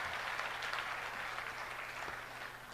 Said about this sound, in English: Can I please ask all of you to give a big round of applause to all the